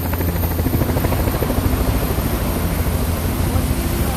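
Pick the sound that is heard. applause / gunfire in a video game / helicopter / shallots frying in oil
helicopter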